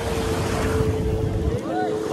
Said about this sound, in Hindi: हम बीच पे नहा रहे हैं